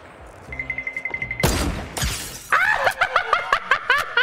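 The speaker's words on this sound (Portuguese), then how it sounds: "Foi um belo tiro, jovens." Gunfire in Fortnite: a quick run of rapid ticking clicks, then a loud sharp blast with a crashing tail, followed by a string of pulsing bursts and ringing echoes.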